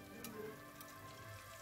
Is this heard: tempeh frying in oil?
yes